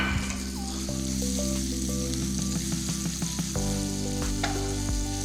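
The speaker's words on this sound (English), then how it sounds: "So my bacon goes back in there." Bacon sizzles and fries together with caramelized apples in a pan, a steady close crackle with occasional soft clinks and stirring under it, no voices.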